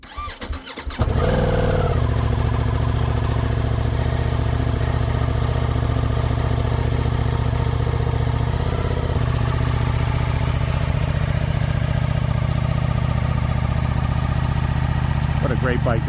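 A Ducati Diavel V4 motorcycle cranks and fires, then settles into a loud, steady, close idle that runs throughout with a constant throbbing hum.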